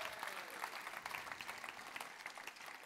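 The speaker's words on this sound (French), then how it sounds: "Quelques petits applaudissements épars ici et là" A church audience gives scattered applause during a sermon, a handful of separate claps pattering unevenly at a distance, faint and thin, with no talking over them.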